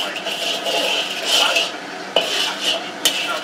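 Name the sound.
toasting black pepper in a pan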